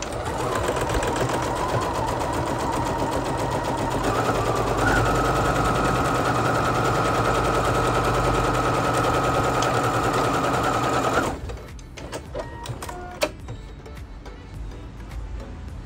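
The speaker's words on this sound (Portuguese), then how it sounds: "Vou colocar o meu tecido com um pé de máquina com a agulha deslocada para a direita" A sewing machine stitches fabric for a French seam with its needle offset to the right, running close and fast in a steady rattling whir for about eleven seconds before stopping, followed by a few faint clicks.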